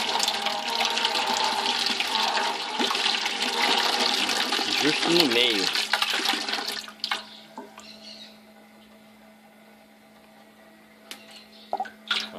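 Water pouring and splashing down through the aluminum false bottom of a homemade Braumeister-style brewing vessel, a loud continuous rush that stops partway, leaving a low hum and occasional drips, with someone speaking briefly.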